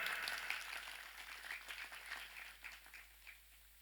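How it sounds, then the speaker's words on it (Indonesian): A religious gathering's audience claps in a faint, distant patter that rises and falls briefly without any voices over it. "Tepuk tangan."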